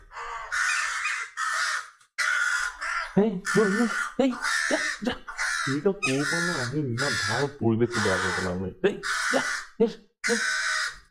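A cartoon crow caws repeatedly in loud, rhythmic bursts, mixed with a voice that imitates the calls in a sing-song tone, close and prominent throughout.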